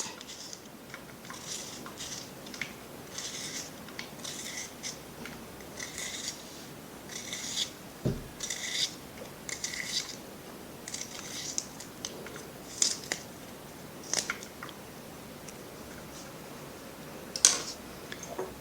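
A wild onion bulb is sliced into strips into a pan, giving a series of faint, crisp cutting snips and light taps spaced irregularly in a quiet room.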